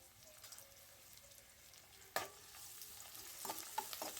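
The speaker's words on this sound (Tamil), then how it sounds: "சேர்த்துட்டு நல்லா கோல்டன் ப்ரௌன் கலரில் வர்ற அளவுக்கு நல்லா வதக்கி எடுத்துக்கலாம்." Onions, with a few curry leaves, sauté in a pan toward golden brown for a vanjaram fish curry: a quiet, steady sizzle with soft scraping stirs and a sharper clink of the spoon near the middle and end.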